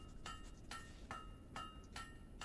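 Metallic hammer clinks from blade forging at the forge in the video game Fable 3, struck in a steady rhythm of about six evenly spaced ringing blows over low background hum.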